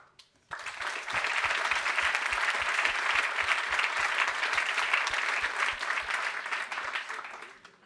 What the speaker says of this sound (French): je pense qu'on pourrait applaudir Pierre Soulages